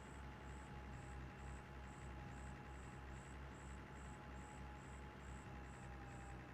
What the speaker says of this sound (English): A big, dirty, great 15-liter diesel engine to listen to.